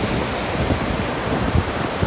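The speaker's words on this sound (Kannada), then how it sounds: "ರೋರರ್ ಕಲ್ಲು ಬಂಡೆಗಳ ನಡುವಿನಿಂದ ನುಗ್ಗುವ ಈ ಝರಿಯು ಅತಿ ಹೆಚ್ಚಿನ ಶಬ್ದ ಮಾಡುತ್ತದೆ." Roaring water at Jog Falls, a waterfall rushing through a narrow gap between rocks, gives a loud, steady broadband rush that holds evenly throughout with no voices.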